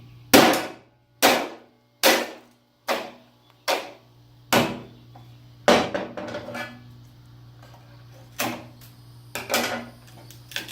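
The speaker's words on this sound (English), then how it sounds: "I'm just going to hit it with a hammer." A hammer strikes a bamboo pole again and again, worked into a four-prong bamboo spear. About a dozen sharp, loud, close knocks come at an uneven pace, each with a short woody ring, and a low steady hum sits underneath.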